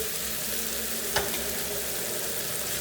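Tomato paste and mixed vegetables frying in a pan for a meatball tray dish, with a steady low sizzle throughout and a brief clatter of stirring near the middle.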